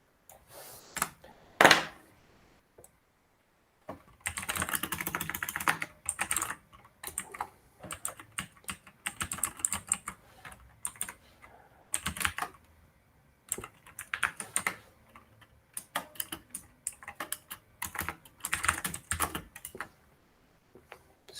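Code typed on a computer keyboard in quick bursts of close, crisp key clicks separated by short pauses, with one loud clack near the start.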